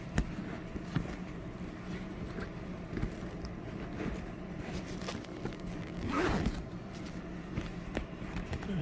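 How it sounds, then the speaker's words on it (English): The zipper on the zip pocket of a fabric tote bag is worked, giving soft scratchy zipping strokes and rustling amid steady background noise, with a brief louder pull near the end. "And then on the other side we have a zip pocket."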